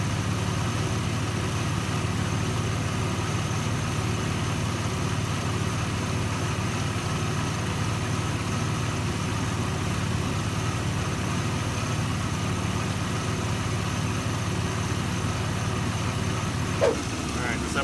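A fourth-generation Chevrolet Camaro engine idles steadily while warming up during coolant work, a constant low rumble heard close and continuous, with faint talk beneath it.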